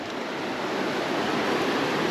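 River water rushing steadily during a hiking crossing on the Lycian Way after a night storm, a continuous broadband wash that stays close and fairly loud throughout with no talk.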